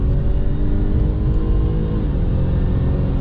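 A Saab 9-5 Aero fitted with a Maptun exhaust runs at steady cruising speed, giving a continuous low, droning rumble that stays even and fairly loud throughout.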